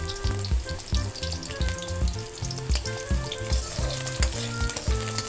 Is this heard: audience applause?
no